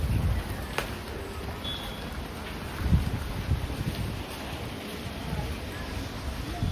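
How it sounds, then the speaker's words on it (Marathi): A dense, steady wash of rain mixed with gusty wind noise, roaring continuously at close range. "पाऊस तर यायला लागलाय जोरात."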